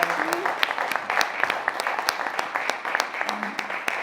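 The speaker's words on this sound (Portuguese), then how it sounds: "eu pedia uma salva de palmas para ele" Audience applause at a conference on the First World War and the German community in Faial, held in a library; a room of people claps steadily for about four seconds at moderate distance, with a faint voice briefly audible.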